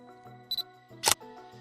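Quick shutter clicks from a Nikon Z6III mirrorless camera: two soft, close clicks, then a sharper, louder release, set against a steady faint electronic hum.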